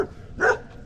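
A stray dog barks once, close and fairly loud, a single short bark over a faint room hum.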